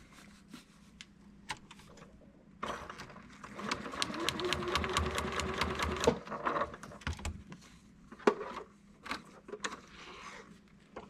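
A small Janome sewing machine stitches a paper-pieced miniature quilt block in one steady, fast run of about three seconds, framed by quiet handling clicks and rustling of paper and fabric, up close.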